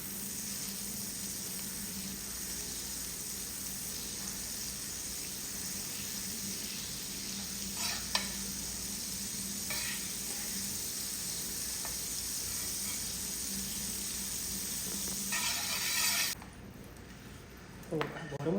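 Chopped onion frying in a pan for farofa gives a steady, close sizzling hiss that runs unbroken, with a few faint utensil taps and a brief clatter near the end.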